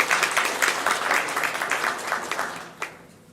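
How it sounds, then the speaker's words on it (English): Audience applause at a regional student company-program competition, a full burst of many hands clapping that swells and then thins out, ending with a few last claps and quiet. "Good, all right, round of applause."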